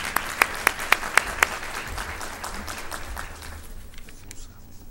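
Audience applause greets a professor at a Portuguese-language retail business talk, a burst of sharp claps at first that thins and fades into scattered clapping over about five seconds.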